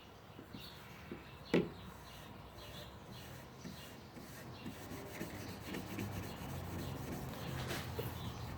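Steel wool rubbed over a thick, dried wood finish in a workshop, a steady low scrubbing that grows slightly louder over time, with one sharp knock early on.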